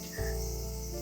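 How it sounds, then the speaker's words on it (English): Loud summer cicadas drone in Kobe, Japan, a dense, steady, high-pitched buzzing that fills the air without pause, with no talk over it. "the cicadas are actually so loud here"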